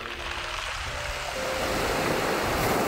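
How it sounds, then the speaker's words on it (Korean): Waves washing over a beach of round, smooth pebbles, a steady broadband rush that swells louder midway and continues close and unbroken with no voices. "파도가 칠 때마다 동글동글한 몽돌들이 부딪히며 내는 소리가 아름다운 곳입니다."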